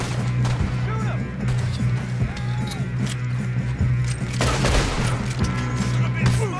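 Gunfire in Red Dead Redemption 2, a rapid, dense fusillade of sharp shots with booming impacts over a steady low engine-like hum, with faint voices now and then.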